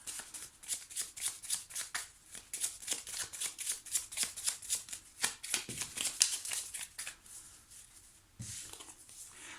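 Petit Lenormand oracle cards shuffled for a reading, a rapid run of crisp riffling card flicks close to the listener, steady and continuous before easing off near the end, with no one speaking.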